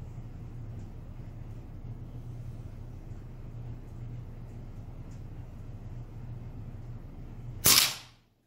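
An AirForce Talon air rifle fires once at a target, a single sharp crack near the end after a long stretch of quiet, steady low background hum.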